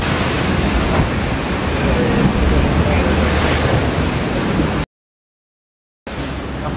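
Loud, steady rush of sea waves and strong wind noise aboard the Spindrift 2 racing boat on the Southern Atlantic, a continuous roar that cuts out briefly to silence before resuming.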